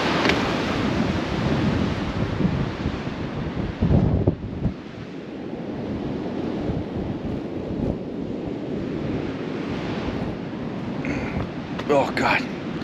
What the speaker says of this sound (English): The wind is blowing so intense that it's picking up all this loose sand